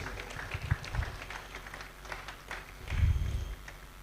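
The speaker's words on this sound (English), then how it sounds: "A round of applause for him, please." Audience applause at a tertiary institutions colloquium in Ondo State, Nigeria, greeting the next inaugural lecturer: diffuse hall clapping with low rumble and a brief swell near the end.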